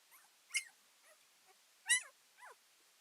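Several faint, high-pitched squeaks and yips from newborn Hovawart puppies, scattered and irregular against a quiet background.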